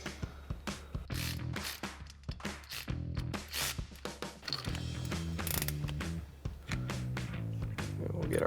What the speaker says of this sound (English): Now we can tighten down our 14mm nuts on our U-bolt and our 14mm bolts for our main bracket with our 14mm socket.